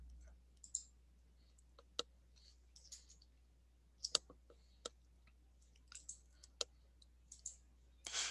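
A computer mouse clicks about a dozen times in a quiet room during Photoshop work, sharp, crisp, isolated taps at uneven intervals, some in quick pairs like double clicks, with soft handling noises between them.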